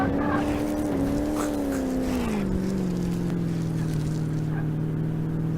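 A car in Car Mechanic Simulator 2018 drones near redline, its engine holding a strained, buzzy tone that sags slightly in pitch and then holds steady, loud and continuous throughout.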